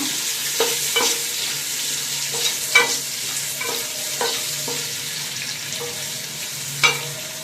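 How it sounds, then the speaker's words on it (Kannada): Onions fry in a pan for mushroom green pulao, a soft continuous sizzle broken by several clear scraping and clinking spatula strokes as they are stirred, close by and alone. "ಈರುಳ್ಳಿ ಕೆಂಪು ಆಗೋವರೆಗೂ ಫ್ರೈ ಮಾಡ್ಕೊಳ್ಳೋಣ"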